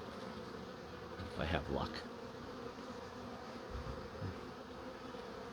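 Honeybee buzzing close by during a hive inspection, a faint steady drone with a couple of brief louder passes, under a quiet voice.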